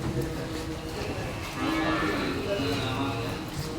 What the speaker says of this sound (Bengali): সবগুলো বেশি গরু